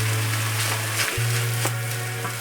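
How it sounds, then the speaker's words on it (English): Rice sizzling in a frying pan with garlic shrimp, a steady crackling fry with a hum running beneath it and brief stirring noises, close and fairly loud. "Now you want to go ahead and add your rice in."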